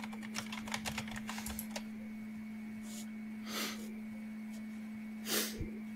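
Bursts of quick keystrokes on a computer keyboard, close and fairly quiet, clatter for about two seconds and then stop, followed by a couple of soft breathy sniffs over a steady low electrical hum.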